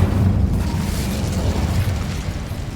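An Incendio fire spell cast in Hogwarts Legacy erupts in a deep, rumbling whoosh of flame, a sustained low burst that swells at once and holds loud for a couple of seconds.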